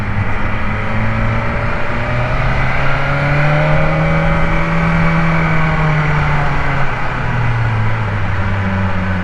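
A BMW S1000RR motorcycle engine drones steadily while riding, its tone rising and falling gently with throttle, loud and continuous under wind noise.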